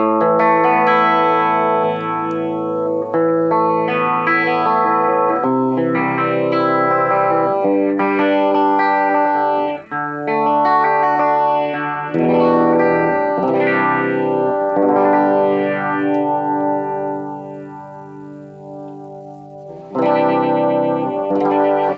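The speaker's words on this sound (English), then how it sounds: "Let's move on to the phaser." Electric guitar runs through a small budget phaser pedal, the tone sweeping in slow, swirling whooshes over sustained chords and melodic lines, loud and continuous.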